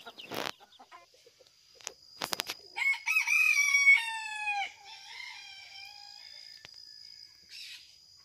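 Mixed-breed rooster crowing once, a drawn-out, clear cock-a-doodle-doo lasting about two seconds, close and loud, set among a few clucks, sharp knocks and faint background chirping.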